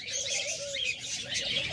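Pet lovebirds offered for sale chirp in a rapid run of bright, high tweets and short calls, fairly close and continuous, with no talking.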